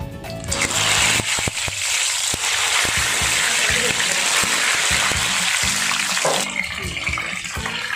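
Brinjals drop into hot oil in a pan for a dry fry, setting off a loud, steady sizzle and crackle with clattering knocks of the pan and lid. A voice talks faintly under it.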